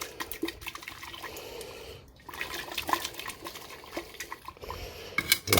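Hot water swirled around inside a container during home gold refining of 9 karat jewellery, giving close, irregular sloshing with light clinks against the vessel, continuous over several seconds.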